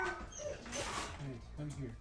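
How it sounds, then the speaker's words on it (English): An elderly, senile pet dog whimpers and yips in the background, short whiny cries repeating under nearby talk. "My parents' senile dog they're going nuts in the background."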